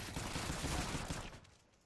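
A short, faint burst of rapid gunfire in a shooter video game crackles for about a second before fading out.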